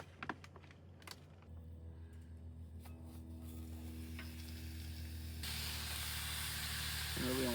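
Bacon frying in a pan at a woodland campsite on the Mogollon Rim, Arizona: a steady sizzling hiss over a low hum, with a few small clicks early on, growing louder and brighter partway through and holding to the end.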